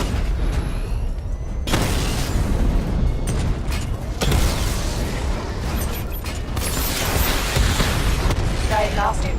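The Batmobile in tank mode unleashes a missile barrage in a Batman video game, a dense run of loud booms and bursting explosions layered with mechanical clatter, with a voice speaking briefly.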